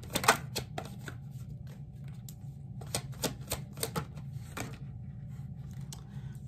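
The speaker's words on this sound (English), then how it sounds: "Let's go ahead and get some more cards for Virgo." Tarot cards being shuffled and drawn, a run of quick close papery flicks and snaps in bursts over a low room hum, with no talk.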